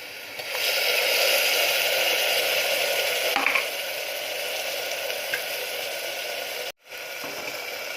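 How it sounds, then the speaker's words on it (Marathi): Green masala paste sizzles in a pan for chicken curry as a loud, continuous hiss, broken by a brief clatter partway through and a sudden short drop near the end. "चला आता आपण हिरवं वाटण टाकून घेऊया"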